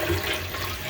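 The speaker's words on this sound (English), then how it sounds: "All right, so we're gonna flush." A toilet flushes after its fill valve has been replaced, a close, steady rush of swirling water heard alone for about a second.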